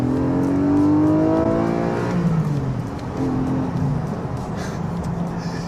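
Porsche 718 Boxster GTS 4.0 with its flat-six revving hard, a loud climbing engine note that peaks early, drops on a shift and settles into a steady pull with tire roar, no talking.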